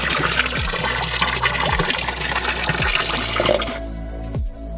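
Steady, loud rush of water pouring from the Pancuran Mas mountain spring spout on Gunung Pesagi in Lampung Barat, a dense continuous splashing that suddenly drops away near the end, with low thumps underneath.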